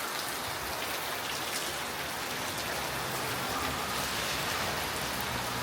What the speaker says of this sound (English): I'm not looking forward to getting back out in this rain